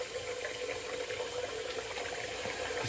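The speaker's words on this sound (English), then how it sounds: "Just getting a little water in the sink" A steady, even rush of water pours from a tap into a bathroom sink, continuous and fairly close, with no voices over it.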